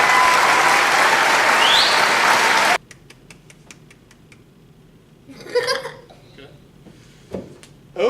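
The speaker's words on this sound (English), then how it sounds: "Awkward clap." Audience applause after an interview, a loud full clapping burst that stops abruptly, then sparse isolated claps and faint murmurs with brief sounds of people stirring.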